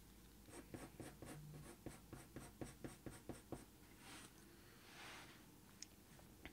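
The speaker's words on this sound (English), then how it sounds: "just using the sharp point of the pencil and just creating some fur lines just to add that colour down to the paper" A sharp pencil point flicks short fur strokes onto paper in a quick run of about a dozen crisp, rhythmic scratches, followed by a softer, longer scrape and a final tick, close and quiet.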